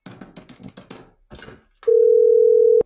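Steady telephone dial tone sounds alone for about a second, loud and clear, right after a stretch of quick speech from a caller redialing.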